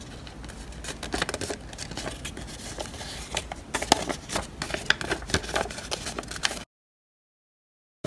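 Paper being cut along a printed line with scissors to make a pyramid net, giving a close, steady run of soft snips and crisp crackling for several seconds before stopping abruptly.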